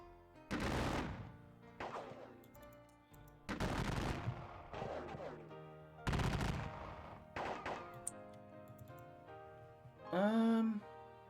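Gunfire from a Battle of Gettysburg war game comes as several loud volleys of musket and artillery fire with crackling tails, spaced apart, ending in a short ringing effect.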